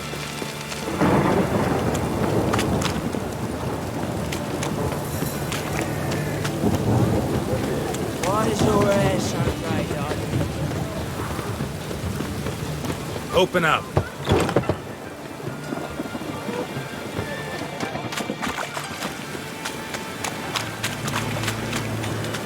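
Rain and thunder in the video game The Witcher 3, a constant hiss of steady rainfall with heavy rolling thunder rumbles, under intermittent talk and game character voices.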